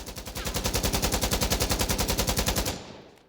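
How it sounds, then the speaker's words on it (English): Sustained full-auto burst from an AK-104 rifle in the game Insurgency Sandstorm: a rapid, evenly spaced string of loud shots for nearly three seconds, then cutting off into a short decaying echo. "I'm going to let this just rip first at full auto and not control the recoil at all."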